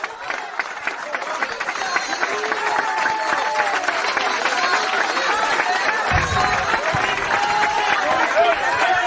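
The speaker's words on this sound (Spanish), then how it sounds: "Denle un aplauso a Cristo" Church congregation applauding during a Spanish-language sermon, a steady broadband wash of clapping that builds and holds throughout, with crowd noise and some vocal activity mixed in.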